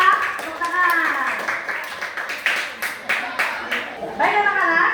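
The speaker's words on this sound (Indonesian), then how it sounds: "Tepuk tangan." A classroom of children claps hands together, a short burst of scattered claps mixed with young voices calling out over and between them.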